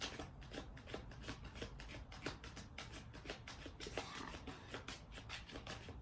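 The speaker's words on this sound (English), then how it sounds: "I shuffle different ways." Tarot cards being shuffled by hand outdoors, a steady run of soft riffling and flicking cards close to the microphone, with no talking.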